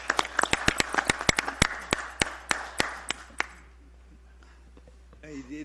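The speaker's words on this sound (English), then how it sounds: "let's give Bill Copey and his team a round of applause" A small group at a town council meeting applauds Bill Copey and his team with scattered, sharp claps that thin out after about three seconds, and a voice follows near the end.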